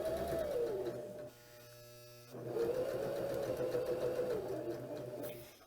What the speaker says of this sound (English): So now I'm going to start sewing.